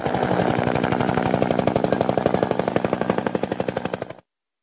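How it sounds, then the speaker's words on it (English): A helicopter's rotor chops in fast, steady pulses, loud and close, holding evenly for about four seconds before cutting off abruptly. "Helicopter."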